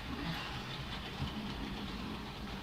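An O scale model train runs on a small layout, a faint, continuous mechanical hum and rumble with no voices.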